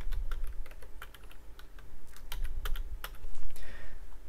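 Quick, close keystrokes clatter on a computer keyboard as a command is typed into finite element software, an uneven run of clicks with short pauses and no voice.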